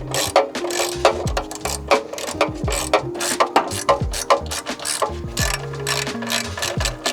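Ratchet clicking rapidly while removing timing cover bolts on a Ford 302 V8 engine from a 1968 Mustang, close and loud in repeated bursts of quick pawl clicks, no talking.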